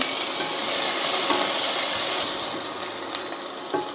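Onions and tomatoes sautéing in a pan for a multigrain kuruma, a steady close broadband sizzle with faint stirring clinks, continuous throughout with no talk.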